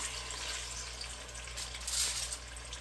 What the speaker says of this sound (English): So what we're going to do is we're going to sear these thighs